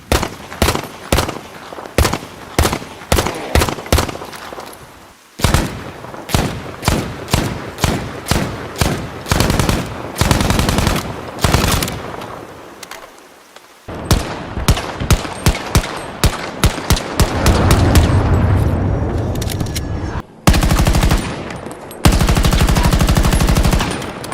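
Rapid bursts of machine gun fire, loud and close, in repeated volleys with brief pauses, ending in long sustained strings of shots.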